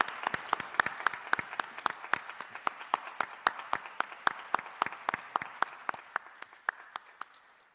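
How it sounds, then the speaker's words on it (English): A small audience at a school board candidate forum claps, sharp distinct hand claps in a quick steady rhythm from only a few people, fairly close and gradually fading toward the end. "Audience, please join me in thanking the candidates with our applause."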